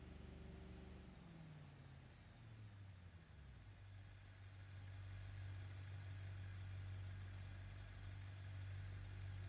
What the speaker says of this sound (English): Such a loud engine over there.